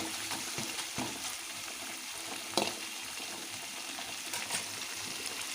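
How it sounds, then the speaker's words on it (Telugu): Green chilli paste sautéing in a pan for chitrannam, a soft, steady sizzle with faint stirring scrapes and an occasional sharper clink of the spoon against the pan, close by with no talking. "పచ్చిమిర్చి పేస్ట్ అంతా పచ్చివాసన పోయేంత వరకు అట్లా మగ్గనియాలి ఫ్రెండ్స్"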